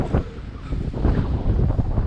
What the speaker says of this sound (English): It is windy and